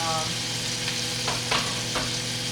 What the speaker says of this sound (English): It gets that sizzle, and it's just amazing.